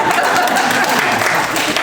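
A short burst of applause from a small crowd at a community housing forum with electoral candidates, with scattered clapping and a chuckle mixed in.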